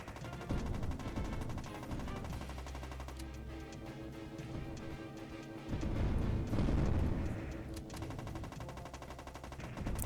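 Turrets in the PS2 game Borderline (Sega Ages vol. 23) fire continuous laser bolts in a dense, rapid rattle of gunfire-like blasts that runs nonstop, swelling louder midway, with no talking.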